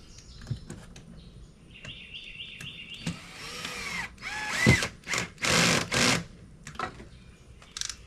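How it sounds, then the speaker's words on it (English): A power drill driving screws while building a chicken coop whirs in several short bursts, rising and stopping in quick succession, close by with some background clatter between runs. "I've decided to go ahead and break out my drill."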